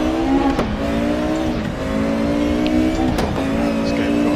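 A DTM 92 race car engine in the RaceRoom sim racing game, loud and close, revving up through short gears with quick shifts, the tone dropping at each change and climbing again.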